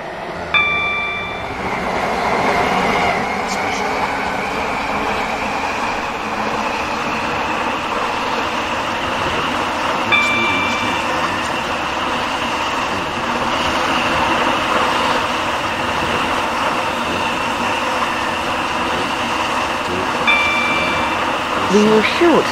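Class 730 train running on the Waterline service in the Roblox game SCR, a steady loud rolling rumble and motor drone throughout, with faint periodic chime tones, close and continuous.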